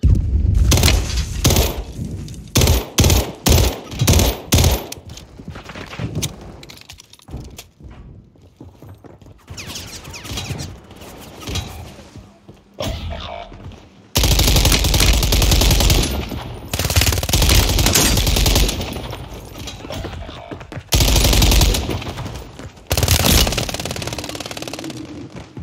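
Heavy automatic gunfire in Call of Duty Warzone, loud bursts of rapid shots in quick clusters with pauses between, then longer sustained volleys of fire near the player.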